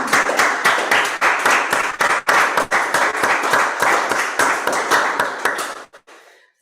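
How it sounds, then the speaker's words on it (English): An audience at a symposium gives a lively round of applause, with dense, close clapping that carries on for several seconds before suddenly dropping away to near silence. "So, big applause."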